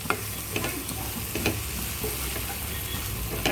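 Prawn thokku with green chillies sautéing in a pan: steady sizzle with repeated spatula scrapes and stirring strokes, close up and without talk.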